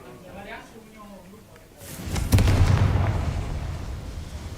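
A Confringo spell in Hogwarts Legacy explodes in a heavy, rumbling boom that swells and lingers for a couple of seconds, following a short stretch of spoken dialogue.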